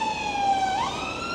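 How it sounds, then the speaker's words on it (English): An ambulance siren sounds along a canal walk in Stratford-upon-Avon, a steady wailing tone that bends in pitch partway through, fairly loud and continuous over background hum. "ambulance, but it's going that way."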